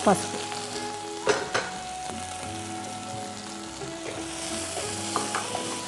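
Curry leaves and turmeric frying in a pan: a steady close sizzle with stirring clatters near the start and around the middle, alone without talk.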